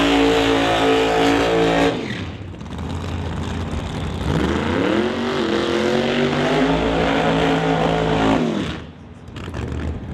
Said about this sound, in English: The nitrous-assisted machine, 959 cubic inches of Rare Morrison power for Ryan Hayward up against the screw-blown Camaro of Justin Bond